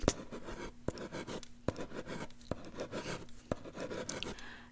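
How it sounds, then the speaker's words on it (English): Pen writing notes on paper during a mock medical exam, soft close scratchy strokes broken by several sharp taps and pauses, quiet and intimate, with no talking. "So I'm gonna just write it down."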